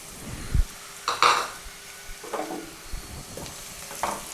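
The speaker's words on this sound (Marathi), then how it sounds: "बघा, अशा पद्धतीनं मी कांदा छान परतून घेणार आहे." Chopped onion sizzles in oil with cumin seeds over medium heat for a dhaba-style akkha masoor, with a soft frying hiss broken by a few spatula scrapes and stirring bursts, nearby and unvoiced.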